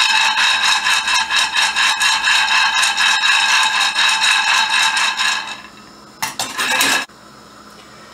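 Chickpeas roast in a pan for Ottoman-style coffee, stirred steadily so the hard dry peas rattle and scrape against the metal in a loud, continuous clatter. The clatter thins out toward the end, then a short final burst of scraping follows.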